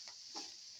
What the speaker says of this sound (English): saute until the onions lose their pinkish color and become a golden yellow